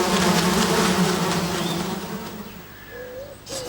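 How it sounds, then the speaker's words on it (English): A swarm of cartoon wasps buzzes loudly and steadily, the dense drone gradually thinning and fading over a few seconds, with a couple of brief whistly tones near the end. "Sad Sack groaned as more and more wasps arrived"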